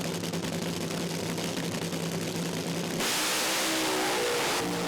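A drag racing car accelerating hard down the strip, a loud sustained engine roar that jumps to a harsher, brighter blast partway through, with no talk over it.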